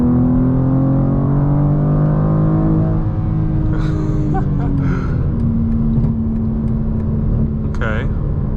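A 2024 BMW M2 pulls hard on the highway, its engine droning loud and close with a rising tone before settling, heard from inside the cabin while a person talks over it.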